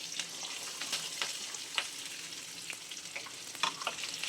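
Curry leaves and onion fry in hot oil for a Chettinad liver gravy, a soft continuous sizzle with occasional crackles and pops and faint stirring, fairly quiet and without speech.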